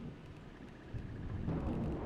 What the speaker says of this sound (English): there's a lot of rain out there